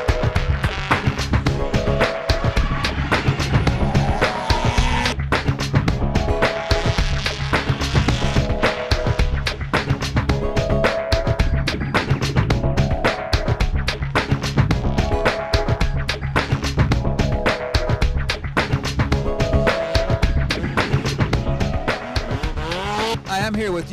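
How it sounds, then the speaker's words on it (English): Formula Drift race cars skid and squeal their tires at Road Atlanta in Braselton, Georgia, with a continuous loud roar of engines and long tire squeals that rise and fade in repeated waves throughout, under background music. "Come on, let's go check out what drift racing is all about."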